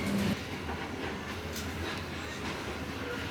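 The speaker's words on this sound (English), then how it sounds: "the train was travelling along the coast for a good 1 hour" A passenger train rolls along the coast in Vietnam with a steady rushing roar and faint rhythmic rattling of the cars, continuous and moderately loud.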